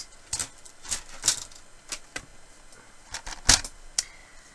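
Paper trimmer slicing a cardboard strip from an original box, giving a series of short, sharp crisp snaps and clicks spaced irregularly, close and fairly quiet, with no talking.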